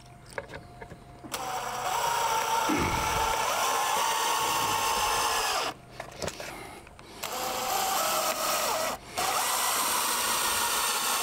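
A power drill drives screws into deck boards, with sustained whining runs of several seconds broken by short pauses, close and loud, and a few knocks at the start.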